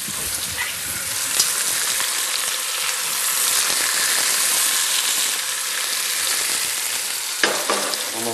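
Floured veal shanks sear in a hot pan for osso buco, giving a loud, steady, crackling sizzle that runs unbroken throughout, with a brief sharper spatter near the end and no talking.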